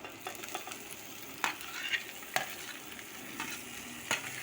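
A potato curry fries steadily in a pan as tomato pieces go in, with a continuous sizzle broken by a few scraping stirs, close up and without talk.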